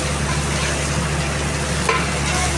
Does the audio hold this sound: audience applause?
no